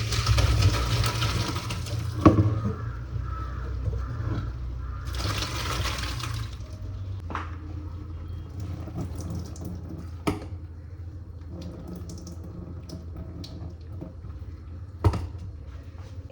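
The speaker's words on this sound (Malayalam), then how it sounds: "ഇനി ഈ ഒരു സ്ട്രെയിനറിലോട്ട് നമ്മൾ കുക്ക് ചെയ്ത് വെച്ച പാസ്ത ഒഴിച്ചു കൊടുക്കുകയാണ്" Cooked pasta and its water are poured into a kitchen strainer, a loud rushing splash for several seconds that settles into dripping and small clinks of cookware, with no talking.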